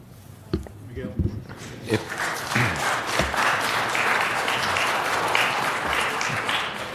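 A council chamber audience at a budget and finance meeting breaks into applause that builds and holds as a steady wash of clapping, with a few louder thumps early on.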